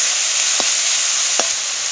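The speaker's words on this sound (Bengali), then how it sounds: "ভালো করে শাকটাকে রসুন শুকনো লঙ্কা তেলের সঙ্গে মিশিয়ে ভালো করে ভেজে নিচ্ছি" Shushni greens fried in oil with garlic and dried red chilli, a loud, close, continuous sizzle with a couple of brief stirring scrapes.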